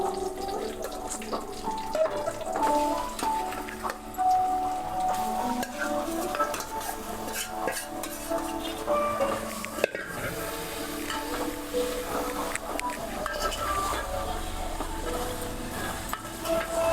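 Marinated chicken being stirred into fried masala in a pan for tomato chicken curry, with continuous wet scraping and clinking of a spoon against the pot and a faint sizzle underneath.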